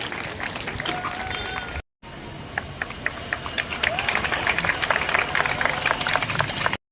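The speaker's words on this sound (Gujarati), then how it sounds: "તાળીઓ પાડી આ ક્ષણને વધાવી લેશો।" An audience at a felicitation ceremony for bright students claps steadily, a dense patter of many hands that breaks off briefly and then resumes, growing a little louder.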